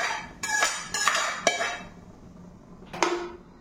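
Fried red chillies for a mint chutney are tipped from a pan onto a metal plate, giving a few sharp metallic clatters and clinks close by, with quiet gaps between them.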